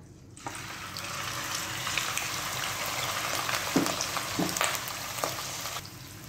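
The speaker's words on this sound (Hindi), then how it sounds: "चिकन को फ्राई करने के लिए मैंने यहाँ पे ऑयल गरम कर लिया है। अब हम इसमें ऐड करेंगे चिकन।" Chicken fries in hot oil with a steady crackling sizzle, broken by a few louder clatters and bumps in the pan.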